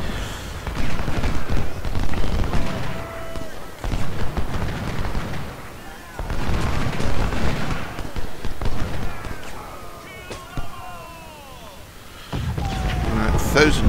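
Artillery fire from a Civil War battle game, including Napoleon cannons and 10-pounders, booms and rumbles in heavy overlapping volleys with scattered gunfire, while someone talks over much of it.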